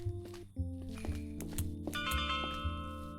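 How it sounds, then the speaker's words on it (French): A two-tone doorbell chimes in the video game Mindcop, its bright electronic notes sounding over a steady synthetic game soundtrack with layered tones. "Ding dong."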